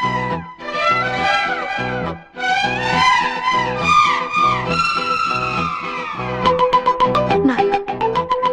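A telephone rings in a Telugu film scene, a bright repeating electronic trill that breaks in near the end right after a stretch of loud music with singing.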